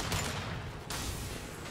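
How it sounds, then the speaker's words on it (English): Gunfire in Mass Effect 2, a short burst of loud, dense shots over about two seconds with a brief gap in the middle. "Firing a high impact shot."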